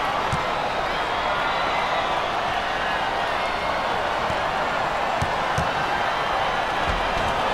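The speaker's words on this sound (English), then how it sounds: "This crowd is fired up." A packed arena crowd roars steadily in the NCAA Basketball 10 video game, with dense, continuous cheering broken by occasional sharp ball bounces and thuds, and commentators talking over it.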